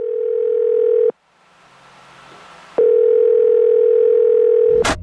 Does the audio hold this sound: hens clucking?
no